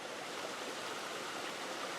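A trout stream flows steadily, its water rushing and babbling in an even, continuous hiss with no breaks, nearby and moderately loud, and no one speaks.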